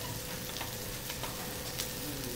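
Whole onions charring in a hot pan in a restaurant kitchen give a steady, faint sizzle and crackle throughout, with no voices.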